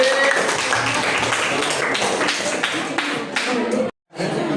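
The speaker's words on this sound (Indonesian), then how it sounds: "Oke, tepuk tangan." Students in an Indonesian chemistry classroom break into brief clapping after a group answer, a burst of hands that fades before a short silence, with classroom chatter and voices mixed underneath.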